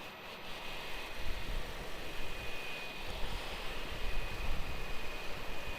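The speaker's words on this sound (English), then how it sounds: "Grab the Singapore Star Alliance liveried aircraft." Singapore Airlines jet in Star Alliance livery at Melbourne Airport, heard as a broad, steady engine roar mixed with airy rumble and a faint high whine, sounding moderately distant throughout.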